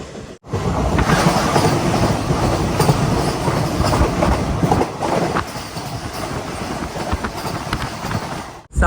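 Thiruvananthapuram–Kasaragod Vande Bharat express rushes past close by with a loud, sustained roar and rhythmic wheel clatter over the rails, fading slightly toward the end.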